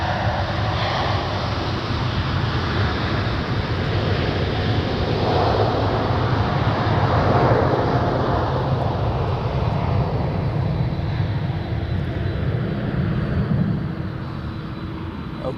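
A Whitebird airliner lines up on runway 20 at Zurich Airport and takes off. Its engines build into a sustained, heavy roar that stays strong through the run and eases slightly toward the end.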